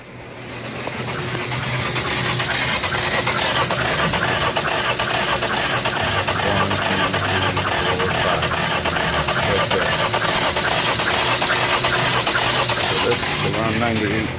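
Chevrolet Cruze 1.4L engine cranking with one spark plug removed for a compression test, a loud continuous rhythmic churn of the starter that runs for over ten seconds, close by, with someone speaking over it.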